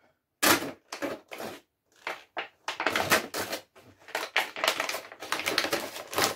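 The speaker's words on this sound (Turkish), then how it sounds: "Yırtarak uğraşmadığım için keserek halletme çalışıyorum." Scissors cutting through the plastic packaging of a store-bought lahmacun, giving close, crisp crunching snips in quick irregular bursts with short pauses between them.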